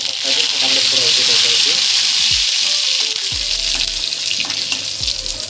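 Mustard seeds, cumin and garlic sizzle loudly in hot oil for a curd-based vegetable dish. The hiss is close and steady, with a faint voice and a few low clinks beneath it.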